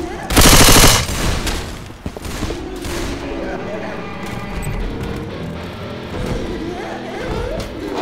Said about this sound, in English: You hear that gun?